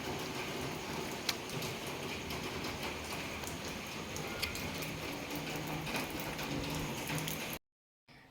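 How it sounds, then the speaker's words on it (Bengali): Steady rain patters on surfaces, a dense even hiss with a few sharper drops, continuous until it cuts off abruptly near the end. "আমাদের এখানে কত বৃষ্টি হচ্ছে"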